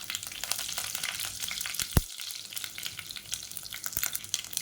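Curry leaves sizzle and crackle in hot oil inside a pressure cooker alongside mustard seeds and fennel, a steady close frying hiss with sharp pops scattered throughout, one louder spit near the middle.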